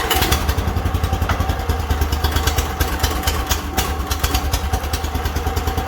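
A Robin EX40 engine newly fitted to a Timberwolf log splitter fires on the first pull and runs steadily, a loud, close, rapid chugging clatter that holds an even rhythm throughout with no talking.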